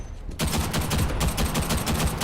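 Rapid sustained automatic gunfire from a machine gun in the online shooter Ghost in the Shell: Stand Alone Complex – First Assault, a loud, dense burst of shots starting after a brief quiet moment and continuing without pause.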